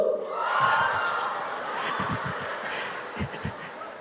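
Church congregation at a sermon shouting together in response, a swelling crowd roar that rises, fades and rises again, with short rhythmic stomps or claps underneath and no clear individual speech.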